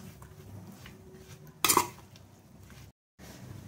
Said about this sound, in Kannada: ಈಗ ಒಗ್ಗರಣೆ ಕೊಟ್ಟಿರೋದನ್ನ ಹಾಕಿ ಚೆನ್ನಾಗಿ ಮಿಕ್ಸ್ ಮಾಡೋಣ.